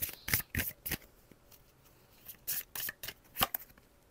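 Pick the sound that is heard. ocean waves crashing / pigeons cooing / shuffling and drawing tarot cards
shuffling and drawing tarot cards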